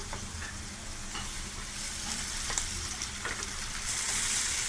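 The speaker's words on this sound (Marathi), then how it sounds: "कांदा एकदम ब्राऊन झालाय, प्रॉन्स घालून घेऊया।" Prawns and browned onion fry over full gas in a loud, steady, close sizzle. Occasional spatters and stirring scrapes rise and fall as the hiss builds toward the end.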